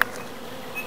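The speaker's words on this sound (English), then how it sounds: "some of your honeybees are back" Honeybees buzz steadily around dandelions in spring, a continuous close insect drone with a short sharp click at the start and no voices.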